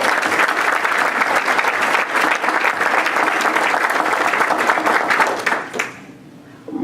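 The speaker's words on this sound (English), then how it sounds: "Give Commissioner Washington a round of applause." Audience at a Rockdale County commissioners' event giving a round of applause, a dense, sustained burst of clapping that holds steady for several seconds before trailing off into quiet.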